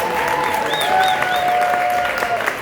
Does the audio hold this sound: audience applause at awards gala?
yes